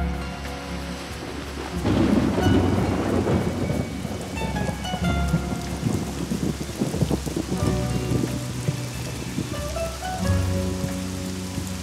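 Heavy rain pours steadily on a road in Nicaragua as thunder rumbles through, loud and continuous with rolling peaks and no voices.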